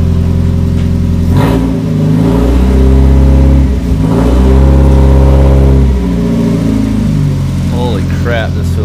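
A go-kart with a Miata engine and no muffler revs hard and accelerates around the block, its loud raw engine rising and falling close by, with a voice talking over it.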